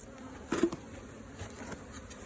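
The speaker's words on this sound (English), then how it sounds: "all these field bees are going to fill that box up" Honeybees buzz faintly around a hive as field bees gather at the box of a packaged colony, a thin, steady drone with a few louder close passes.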